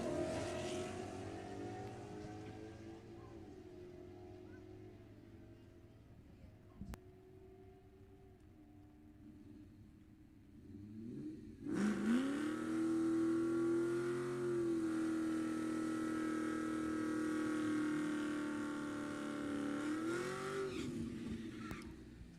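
Fords at an all-Ford drag event leave side by side down the quarter mile, a low engine rumble swelling into a loud, sustained roaring run after a quieter idle.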